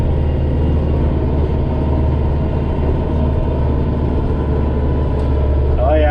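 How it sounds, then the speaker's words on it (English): A steady, low diesel engine rumble drones throughout, a tractor running close by while clearing heavy snow, constant and loud with no talking. "Oh yeah, you hear the tractor?"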